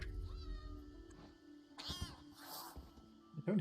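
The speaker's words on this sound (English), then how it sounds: "Don't hiss at me." A cat in the video game Elder Scrolls Online gives a brief hiss and meowing sounds, faint and short, amid quiet game ambience.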